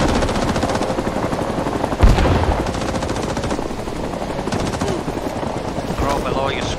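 Rapid machine-gun fire from a plastic army men beach-invasion video game, dense sustained bursts aimed at a helicopter, whose rotor and engine drone fill the background, with a heavier blast around the middle.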